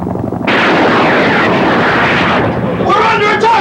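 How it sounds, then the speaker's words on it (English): Soviet attack helicopters strafing an area in a vintage US Army training film, a loud continuous roar of rotors and gunfire with bursts, close and dominant, filling the whole stretch. "Soviet helicopters are shooting up the area!"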